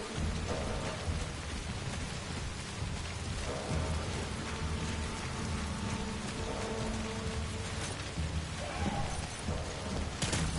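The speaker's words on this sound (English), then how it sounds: "Do you guys see it's raining?" Heavy rain falls steadily in the video game Death Stranding, a dense, continuous hiss of drops with low rumbling thunder underneath, with no talking.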